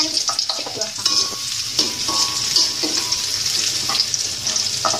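Sliced shallots frying in hot oil in a pan, a steady loud sizzle with frequent stirring scrapes over about five seconds, close up.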